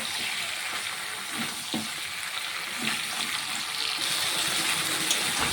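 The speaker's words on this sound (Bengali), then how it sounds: "ঝিঙেটাকে দিয়ে আমি কিছুক্ষণ রান্না করে নেব মশলার সাথে" Strips of ridge gourd fry in a pan with spices, giving a steady, close hiss and crackle of sizzling oil with faint stirring and no voices.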